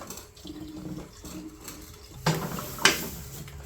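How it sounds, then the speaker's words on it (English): Gasoline is drained from a small engine by tipping it out, a faint trickle that swells into a brief splashing pour near the end, close and otherwise quiet. "Drain the gas. Pour it right out."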